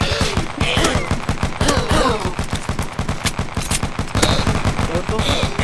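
Rapid automatic gunfire in a video game robbery, dense bursts of shots rattling nonstop and loud in the foreground, with a few sharper cracks layered on top.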